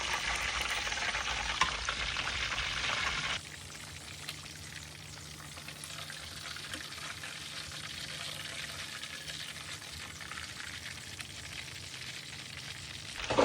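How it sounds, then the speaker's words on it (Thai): Pork belly with crackling skin frying in hot oil, a steady close sizzle and bubbling that grows louder and brighter in the first few seconds, then settles into a softer continuous fry, with no talking. "แบบนี้เจอน้ำมันร้อนๆก็ปะทุขึ้นมาแล้วครับ พองขึ้นมาแล้ว"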